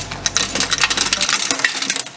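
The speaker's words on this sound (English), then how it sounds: "Poopy bolts are getting thrown away." Old rusty bolts from a pit bike build are tossed away in a quick clattering jumble of metallic clinks and rattles, loud and close, then settle within a couple of seconds.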